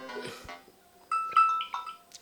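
An alarm tone previews on a Samsung Galaxy A15 5G phone as a short, bright melodic chime sequence of rising and falling notes, after a brief faint rustle.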